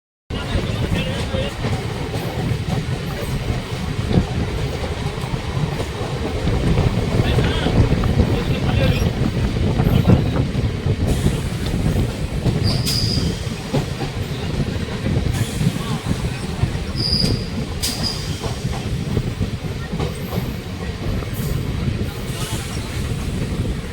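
A train rumbles steadily along the tracks, heard from inside a Puri–Shalimar Garib Rath Express with constant rattling and wind noise and a few faint squeals.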